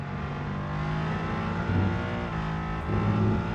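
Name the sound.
race car engine and gearbox whine in RENNSPORT video game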